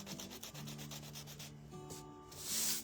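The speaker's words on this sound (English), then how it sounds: "Kind of sand that a little flat" A peppermint candy is rubbed flat against sandpaper for a Christmas craft, a faint repetitive scratchy rasp in quick regular strokes under soft background music, with no talking.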